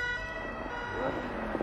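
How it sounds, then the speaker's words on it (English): An ambulance siren from the film The Gray Man gives a brief, steady wailing tone over a low rumble, fairly faint and distant. "oh no, it is ambulance!"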